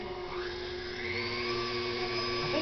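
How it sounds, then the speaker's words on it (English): An electric pasta roller on its widest setting runs dough through with a steady motor whir and faint rolling rumble, slowly getting louder, with no talk. "I'm going to send it to this here pasta roller on setting 1, which is the widest setting."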